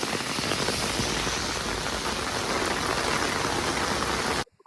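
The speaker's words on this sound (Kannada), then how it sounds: "ಮಳೆ ಜೋರು ಬರ್ತಾ ಉಂಟು, ಹಾಗಾಗಿ ಫೋಟೋಗ್ರಫಿಯನ್ನು ಸ್ಟಾಪ್ ಮಾಡಲಾಗಿದೆ." Heavy rain pours in a dense, constant hiss on outdoor surfaces in a park, loud and unbroken for several seconds before cutting off abruptly.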